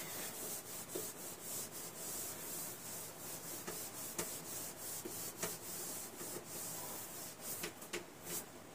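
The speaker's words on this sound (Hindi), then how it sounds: "मैं ना इतने पोर्शन को रब करता हूं क्योंकि मुझे ज़रूरत है इस जगह की" A section of a classroom board is rubbed clean with a duster, giving a close, scratchy rubbing that repeats in quick, uneven strokes throughout with a few sharper scrapes and no talking.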